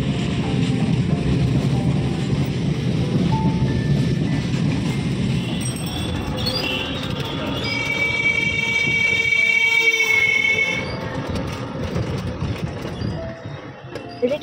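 Train at a railway station, a steady rumbling roar running the whole time with a faint high squeal or horn-like tone midway, close and continuous.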